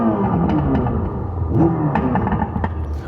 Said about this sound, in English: AMG is trying to play with our emotions here, giving us a synthetic sound